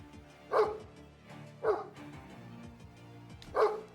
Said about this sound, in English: Shut the damn dog up!